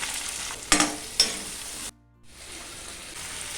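Sizzling and crackling as chopped onions hit hot oil with popped mustard seeds, a couple of sharp bursts as they drop in, a brief silent gap, then steady frying resumes.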